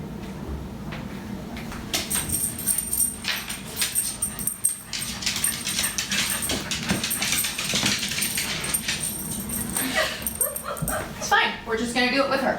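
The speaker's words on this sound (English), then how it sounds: "Dog." A dog barks, yips and whimpers in a home kitchen during pie baking, a run of excited close vocalizations over roughly ten seconds with cupboard and door clatter around it and a louder burst near the end.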